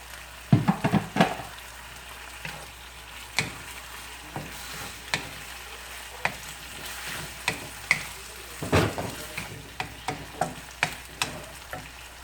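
Beef mince stir-fries with holy basil and sauce in a hot pan, with steady sizzling broken by repeated sharp scraping and clanking strokes of a spatula against the pan.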